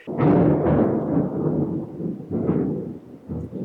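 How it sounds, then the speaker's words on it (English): Thunder rolls in Singaraja, Bali, before rain arrives, a series of deep, heavy rumbling swells that surge and fade several times, fairly close and loud. "hear the thunder? It looks like it's going to rain."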